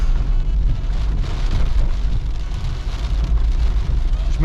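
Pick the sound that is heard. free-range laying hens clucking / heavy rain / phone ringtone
heavy rain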